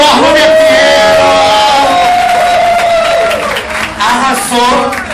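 A loud, sustained crowd roar of applause and cheering for a new costume designer at a disco-clubbing birthday special show, with voices whooping and calling over it throughout.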